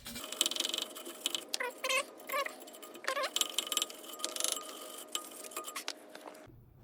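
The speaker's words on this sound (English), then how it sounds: "I like to clean up the area before I put the new one in with a wire brush." A wire brush scrubs around the drum brake wheel cylinder mount on a 1986–1997 Ford F250 truck, giving a close, busy run of rough scraping strokes and metallic scratches with no talk.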